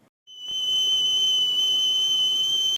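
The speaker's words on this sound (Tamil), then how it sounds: "விசில் பறக்கட்டுமே அப்படிங்கிற மாதிரி குக்கரில் பயங்கரமாக விசில்லாம் வந்துச்சு" A pressure cooker on an induction stove, steaming idli, lets out a loud, steady, high-pitched whistle that starts abruptly after a brief silence and holds unbroken to the end.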